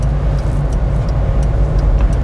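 Heard from inside a car on a city road, the engine gives a loud, steady low rumble as the accelerator is pressed, with road noise underneath.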